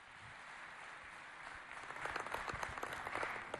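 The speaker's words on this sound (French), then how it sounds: "nous allons le recevoir sous un tonnerre d'applaudissements" An audience at a book presentation and signing ceremony applauds to welcome a speaker, the clapping starting moderate and swelling louder and denser in the second half.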